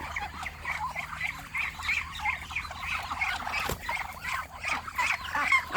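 Many farm-raised ducks quack and chatter together at night in a steady, overlapping chorus, fairly close, with a brief sharp knock partway through.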